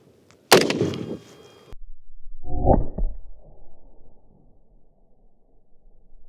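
A single sharp, loud rifle report rings out as an armor-piercing round strikes a ceramic class 6 armor plate, followed after a pause by a lower thud and a fading rumble.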